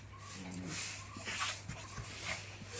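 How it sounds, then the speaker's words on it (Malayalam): Dogs whimper and whine in short, high, nasal bursts, close by and fairly soft, over a low steady background hum. "വേറെ പട്ടി 2 വന്നാണ്ടോ"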